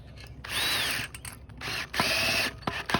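Cordless power drill driving screws into a trellis cross arm, several close, loud whirring bursts that rise and fall in pitch, separated by short pauses and a few clicks.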